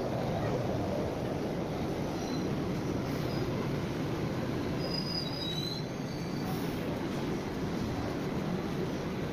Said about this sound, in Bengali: আমাদের মেট্রো চলে এলো।